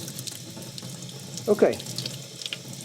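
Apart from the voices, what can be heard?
water rinsing rust remover off metal parts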